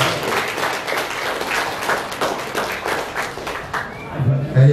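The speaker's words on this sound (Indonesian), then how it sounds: "Tepuk tangan dong." Audience applause after a speech at a community gathering in flood-hit Belawan, North Medan, a dense patter of clapping that fades toward the end as a voice starts up over it.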